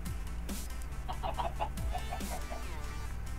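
Chickens in the Minecraft video game give a short burst of soft clucks mid-clip, fairly faint over a low background hum.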